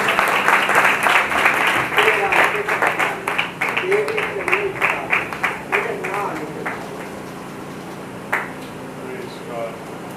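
An audience bursts into applause for a pastor at a church gathering: dense clapping that thins into scattered claps and then fades under a voice.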